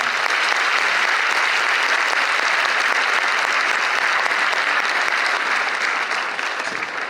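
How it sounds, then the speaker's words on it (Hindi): Strong, sustained applause from an audience after a stage play performance, a thick uniform roar of many hands clapping, steady and loud throughout before easing slightly at the end. "एक बार जोरदार तालियों के साथ"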